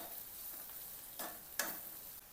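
Bitter gourd thecha is being sautéed in a pan, giving a faint, steady sizzle with a couple of brief scraping stirs and a small tick partway through, and no voices.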